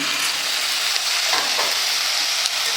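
Field beans and onion sautéing in oil make a loud, dense, continuous hiss, close and steady, with faint scraping stirs and no voices.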